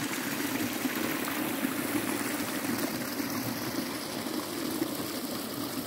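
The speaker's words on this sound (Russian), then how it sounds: "Такие водопады." A forest waterfall near Lake Seliger rushes and splashes steadily and evenly, close by, with no voices over it.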